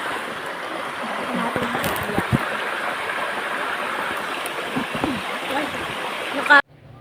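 A river near a residential subdivision rushes steadily close by, a broad continuous flow with occasional splashes and knocks. People talk over the water before it cuts off abruptly near the end.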